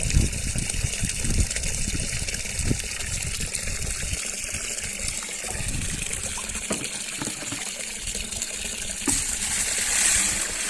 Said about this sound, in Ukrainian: Лиється в відро і піде до бочки.